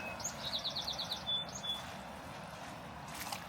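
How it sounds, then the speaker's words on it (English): Faint bird calls twitter in the distance near a lake, a quick run of short chirps over a steady wash of wind or water. "Hear the birds calling."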